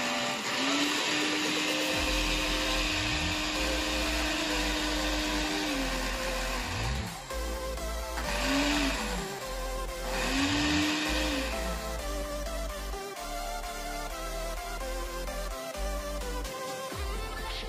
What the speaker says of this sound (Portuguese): O liquidificador só possui duas velocidades e o pulsar.